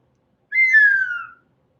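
A single sharp whistle, blown as a signal for a correct trivia answer, rings out alone against silence, with a bright, slightly falling tone that lasts just under a second.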